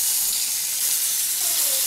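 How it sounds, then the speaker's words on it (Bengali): Fish pieces frying in very hot oil in a pan, giving a steady, close, continuous sizzle and hiss with no talk. "শুরুতেই আমরা মাছগুলো ভেজে নিব, তার জন্য তেল দিয়ে দিয়েছি"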